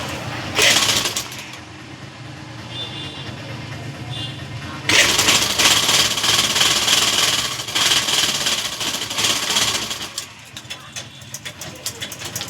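Sewing machine stitching the handle onto a cloth bag, a steady loud mechanical whir running in long bursts with brief pauses and shifts in speed.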